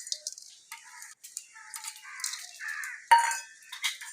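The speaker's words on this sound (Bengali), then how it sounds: "জিরে ধনেটা আমি একসাথে ভেজে নিচ্ছি" Cumin and coriander seeds dry-roasting together in a pan, stirred with light metallic clinks, scrapes and rattles in quick irregular taps, close and soft, with no talking.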